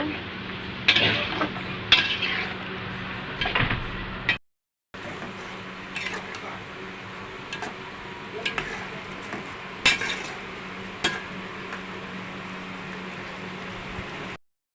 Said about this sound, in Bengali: এখন আমি আর একটু কষিয়ে নিব